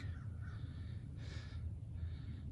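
A bird near a pasture fence gives a few hoarse, crow-like caws, the loudest in the middle, heard at moderate distance over low wind rumble with no talk.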